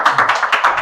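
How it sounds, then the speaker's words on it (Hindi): Audience clapping for Preeti Barman at an event: a short, loud patter of claps in an uneven rhythm, close to the listener, with no voices over it. "एक बार ताली हो जाए भाई इनके लिए।"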